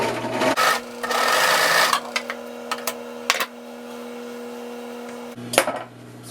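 A serger sewing machine stitches the back seam of a shop coat in a few close, whirring bursts separated by short pauses, with nobody talking.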